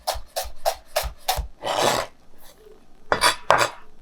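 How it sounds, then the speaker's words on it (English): A chef's knife rocking rapidly back and forth on a cutting board while chopping shallot, a run of crisp evenly spaced taps followed by a scraping sweep and then a few more sharp knocks, close and clear with no talking. "the knife just rocking back and forth right on my fingers"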